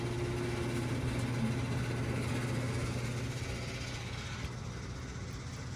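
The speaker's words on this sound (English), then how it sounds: "you can hear the pump kick on" Aircraft fuel pump running at an airfield fueling station, a steady droning hum with a low tonal whine that holds unchanged throughout, fairly loud and close, no talking.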